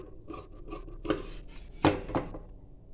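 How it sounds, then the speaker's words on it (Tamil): Scissors snip through excess cloth while a petticoat is cut out in a tailoring lesson, with about six close, crisp cuts in an uneven rhythm and no talking. "இப்போ எக்ஸஸாக இருக்கிற கிளாத் எல்லாமே கட் பண்ணி எடுத்துக்கலாம்."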